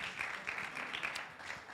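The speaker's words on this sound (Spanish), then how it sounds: "Denle un Amen. aplauso al Señor." A church congregation applauding the Lord during a Spanish-language sermon, with steady, fairly faint clapping from a crowd that carries on throughout.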